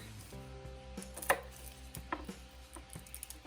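An onion being chopped with a knife in a home kitchen, a few quiet, separate knife strikes on a board against a faint background hum, no voices.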